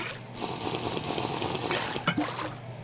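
A steady watery rush of drinking in the Minecraft video game during survival play, moderately loud and continuous for a couple of seconds.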